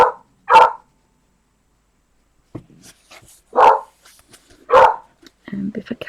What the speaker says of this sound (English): Sorry, bark alert.